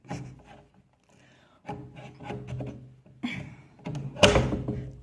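A gate being opened at home in daytime gives a series of rubbing, scraping wooden and metal sounds in uneven bursts, ending in a louder close clank.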